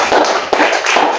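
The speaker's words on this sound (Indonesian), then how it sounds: "Tepuk tangan buat." Students in a classroom clap their hands, a short, fairly loud burst of quick overlapping claps lasting about a second.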